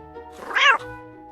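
A single cat gives a short, loud, angry meow that rises and falls, heard clearly over faint background music.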